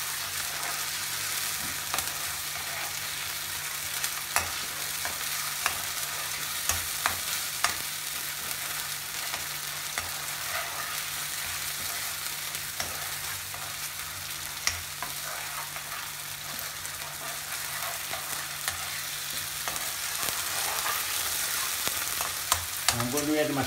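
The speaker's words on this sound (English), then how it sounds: "I'll let it cook on now, Ali." Chicken tikka masala fries in a pan with a continuous close sizzle, broken by occasional clicks and scrapes of stirring over about twenty-four seconds.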